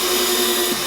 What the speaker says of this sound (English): in this one you need to pre-drill the holes